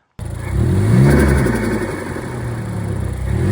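A 2015 Ford Focus ST fitted with a Roush Performance intake revs up loudly close by, the engine note swelling and then settling into a sustained mid-range drone with no voices.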